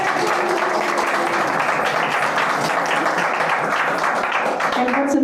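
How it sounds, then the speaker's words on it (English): A house concert audience applauds in a small room, a steady wash of clapping lasting several seconds with voices mixed in beneath it. "And I think it deserves some applause"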